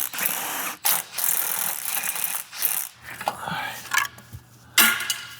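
Starter bolts come off a Chevy Silverado, heard as irregular metallic ratcheting clicks and clinks with short pauses, close by and moderately quiet, and a faint low hum running underneath in places.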